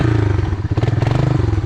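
A Honda Big Red ATV engine driving through a deep pond, a loud close throbbing chug with a brief dip and then splashy clatter as it pushes through water.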